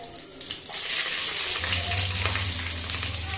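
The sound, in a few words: onion frying in a pan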